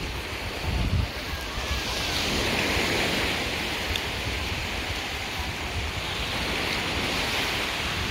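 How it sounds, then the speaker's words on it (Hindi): Sea waves breaking on a beach in Castellon, Spain, a continuous surf roar with a slight swell and fall, moderately loud and steady with wind. "ये माहौल है जी समुंदर का,"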